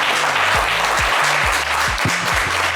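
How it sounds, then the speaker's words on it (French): A studio audience on a French game show applauds a contestant, dense and loud clapping filling the whole stretch evenly, with low musical tones sounding underneath. "des applaudissements pour Nathanaël, mesdames et messieurs"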